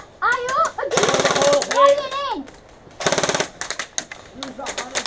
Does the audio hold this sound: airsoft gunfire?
yes